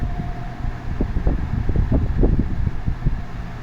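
An Air Wizard Pro 20-inch wall fan in need of grease, running with a low steady whirring hum and a soft rhythmic thumping as it gradually slows.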